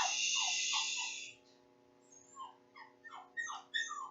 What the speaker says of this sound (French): Ça c'est ma petite chienne qui n'est pas contente, qui ne veut pas rester toute seule.